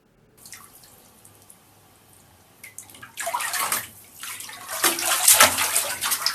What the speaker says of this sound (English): Diving, singing, and blowing bubbles in the bathtub